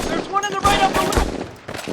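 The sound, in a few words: gunfire and machine guns in a war TV series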